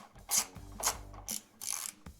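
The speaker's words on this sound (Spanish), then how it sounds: "ya hemos quitado los tornillos que sujetaban esta pieza" Screws are undone on a BMW R 1300 GS motorcycle with a ratchet tool, four short bursts of close, loud clicking separated by brief pauses.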